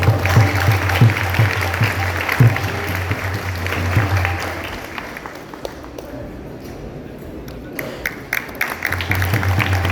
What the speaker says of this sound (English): I would like to encourage everyone to welcome our speaker for today by giving a big round of applause.